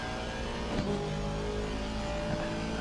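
A video game race car engine roars steadily at high revs, a continuous buzzing drone with slight pitch shifts as it accelerates.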